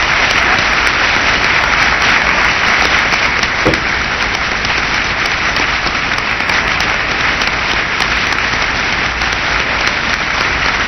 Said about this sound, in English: the room, of course, is erupted in cheering